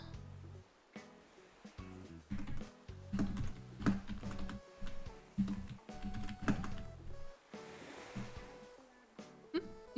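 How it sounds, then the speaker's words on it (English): Computer keyboard typing in bursts of quick clicks and clacks, close and fairly steady, with short pauses between runs and some background sounds mixed in. "I'm gonna go ahead and type up another poll."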